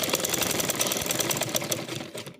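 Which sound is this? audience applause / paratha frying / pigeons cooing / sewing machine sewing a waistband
sewing machine sewing a waistband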